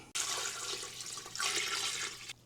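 Tap water pouring from a gallon jug into a stockpot over roasted beef bones, a steady splashing rush that starts abruptly, swells midway and cuts off after about two seconds, close and fairly quiet.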